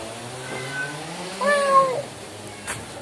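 A cat meows a couple of times nearby outside a restaurant in Edremit, Kyrenia, Northern Cyprus, a short cry followed by a longer, rising meow, over quiet background.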